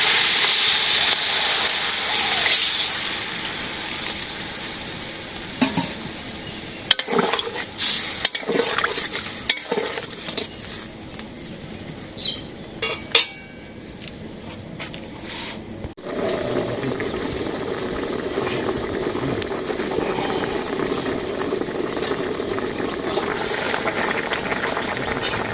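Broth is added to a spiced village curry in a pot, giving stirring clatters and scrapes at first, then a steady close bubbling simmer with a few spoon knocks.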